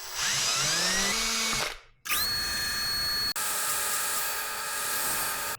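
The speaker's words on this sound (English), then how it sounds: "I'm going to drill a hole right there so that doesn't want to crack or split." A power drill bores a hole in a wooden glide fishing lure with a high, steady whine. It stops briefly, then restarts and runs on evenly, close up.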